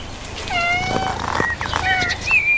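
A cat meows repeatedly around fragrant catnip herb, several clear, drawn-out rising and falling calls close to the microphone over a steady background hiss, with no talking.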